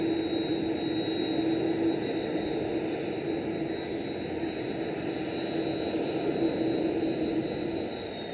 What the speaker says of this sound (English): And the A330 arrives at the gate.